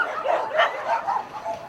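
A paraplegic white Korean Jindo-type dog about to try a wheelchair gives a few short, close barks or yips in a quick irregular series, with no talk.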